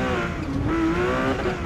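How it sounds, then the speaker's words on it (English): A Porsche drifting in the Forza Motorsport racing game on PC, its engine droning steadily while the tires squeal in a sustained, wavering whine that stays loud and close from start to finish. "at least I could hold the drift better than I did on Forza 7"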